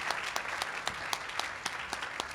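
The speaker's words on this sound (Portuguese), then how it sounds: "esses aplausos são para você" An audience at a talk gives sustained applause, a steady wash of many hands with a few sharper individual claps standing out. No voices are heard over it.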